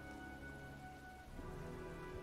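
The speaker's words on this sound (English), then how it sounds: "It's been raining for, like, 2 days already." Steady rain from the video game Heavy Rain, a constant dense patter filling the scene at low volume with faint tonal game background underneath and no voices.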